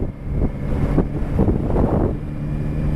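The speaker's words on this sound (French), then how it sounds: "Par contre, il y a du vent, hein." Wind buffets the microphone during a motorcycle ride on a road near Perpignan, a continuous low roar with gusty surges, rushing and close.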